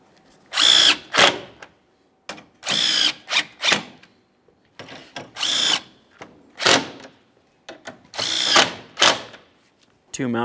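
A power drill drives the top grille mounting screws on a 2015–2020 Ford F-150 pickup, in about six loud, close whirring bursts separated by short silences, each burst rising and cutting off sharply.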